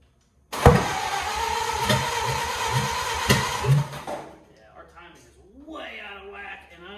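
The engine of a 1928 Ford Model A starts abruptly and runs rough and loud with uneven throbbing pulses for about three seconds, then cuts out, and someone talks afterward.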